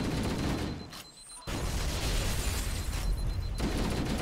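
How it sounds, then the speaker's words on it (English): Halo: Combat Evolved firefight: a sharp grenade blast and bursts of rifle gunfire, loud and close, with a brief lull before dense rapid shooting resumes and continues to the end. "Grenade out."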